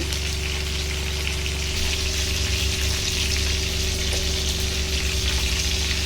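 Chicken kurma gravy with radish bubbling at a steady boil in a pot, a continuous close sizzling, simmering hiss with a low hum underneath, no voices.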